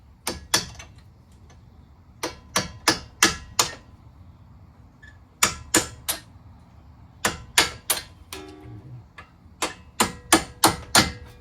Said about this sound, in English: get these bolts off and just tap them gently